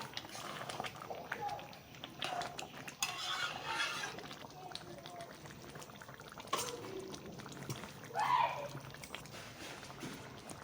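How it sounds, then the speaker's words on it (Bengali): Kashmiri aloo dum curry is stirred in a pan, giving soft scraping and bubbling with occasional clinks of a utensil, faint and close, mostly alone with little talk. "এবার সুন্দর করে একটু নেড়ে চেড়ে নেব।"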